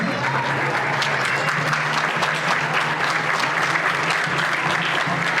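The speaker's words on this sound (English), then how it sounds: "applause." Sustained applause from an audience at a school winter band concert, dense and steady clapping filling the room throughout with no pause.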